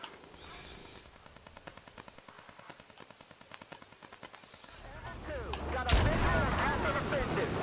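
Rapid automatic gunfire in the video game Battlefield 4, with rhythmic bursts of shots growing denser, then a loud blast and chaotic battle noise swelling toward the end.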